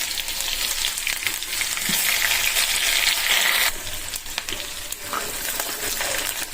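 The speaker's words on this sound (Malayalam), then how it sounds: "നമുക്ക് ഉള്ളിയും കറിവേപ്പില ഇട്ട് കൊടുക്കാവേ" Chopped onions and curry leaves hit hot oil that already holds popped mustard seeds, setting off a loud, dense, close sizzle. The hiss drops slightly partway through and continues without any talk.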